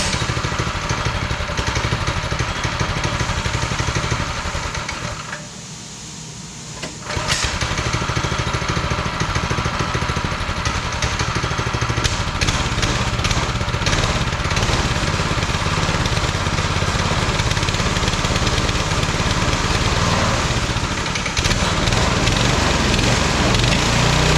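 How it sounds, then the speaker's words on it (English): Predator 212cc small engine swapped onto a cheap go-kart runs loud and close with a rough, buzzing drone, dipping briefly as it nearly stalls, then revving back up and holding a steady high roar. "I got it running, but it won't idle."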